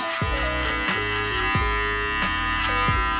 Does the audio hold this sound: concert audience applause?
no